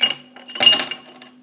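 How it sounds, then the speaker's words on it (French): Two ice cubes drop into a cocktail shaker, giving a couple of quick, close, bright clinks and a short rattle that fades within a second. "Dans mon shaker, je commence par mettre les deux glaçons"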